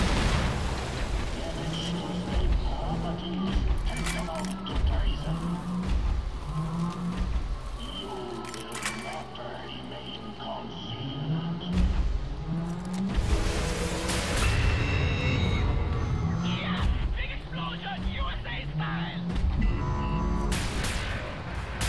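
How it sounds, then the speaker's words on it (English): Repeated heavy booms and blasts from combat in Wolfenstein: The New Order, a rhythmic series of thuds building into larger crashing explosions with debris and rumble, loud and close. "Big explosion, USA style."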